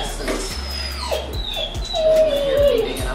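A Cane Corso puppy whimpers in thin, wavering high whines, several drawn-out cries close by, with a person talking faintly and some handling noise.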